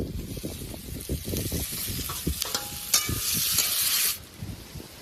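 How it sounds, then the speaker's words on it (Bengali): Potato, eggplant and onion frying in a pan produce a close sizzle with bursts of stirring, building to a louder hissing surge before it quickly subsides. "এবার আলু বেগুন যেটা আছে ওটা দিয়ে দেবো"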